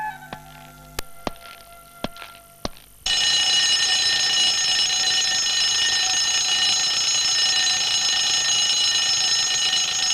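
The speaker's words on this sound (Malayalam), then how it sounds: "ഇതെന്തിനാ ഇപ്പൊ അലാറം അടിക്കുന്നു?" An alarm clock in a Malayalam film scene starts ringing loudly after a few faint clicks, a sustained, piercing electronic ring that continues unbroken to the end.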